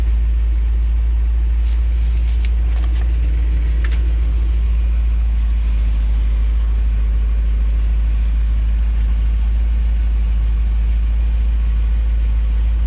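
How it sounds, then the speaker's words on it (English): A fuel truck's engine idles steadily throughout, a deep, constant low rumble with a few faint clicks and rattles on top and no talking. "have to bear with the engine noise because I want to leave this thing run to charge up a little bit here"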